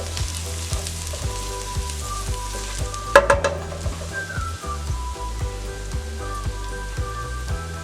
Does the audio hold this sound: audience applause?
no